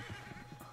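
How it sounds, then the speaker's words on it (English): A horse whinnies in one short, quavering burst of rising and falling tones, close and fairly clear over a low rumbling background. "What is wrong with you, horse?"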